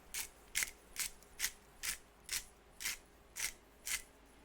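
Saxa pepper grinder cracking peppercorns in a steady series of nine crisp grinding bursts, evenly spaced and close, quiet overall with no talk.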